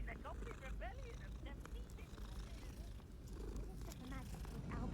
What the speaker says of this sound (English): What a good kitty.